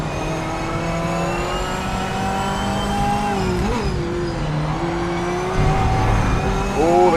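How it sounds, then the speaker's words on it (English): A race car in the racing game Project Motor Racing rolls over curbs, its loud engine drone broken by bumpy dips and brief revving swells as it runs on, close and without talking. "Oh, the curbs sound nice too."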